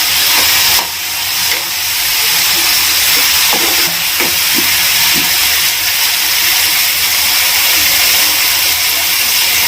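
Sweet corn and paneer sizzle in butter in a pan for a sandwich filling, a loud continuous hiss with a few soft clatters and taps from stirring.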